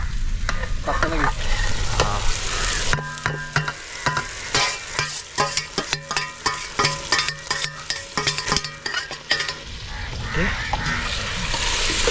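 Chicken frying in a pan at an outdoor village cooking spot in a forest, dense sizzling and rapid crackling spattering throughout, loud and close, with stirring scrapes.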